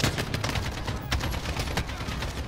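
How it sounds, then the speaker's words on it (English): An AK-12 rifle with a 75-round drum magazine fires in dense, sustained automatic bursts in the Call of Duty: Modern Warfare campaign, with loud, continuous gunfire and no talk. "Let's see what this AK-12 can do. 75 round drum mag."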